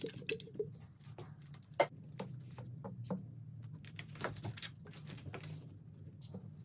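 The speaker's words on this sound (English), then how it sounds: "It's pretty dry, so I'm just going to moisten it and then mix everything in" Dry bedding in a ball python enclosure is moistened and mixed by hand, giving soft irregular pattering, squishing and rustling, quiet and close.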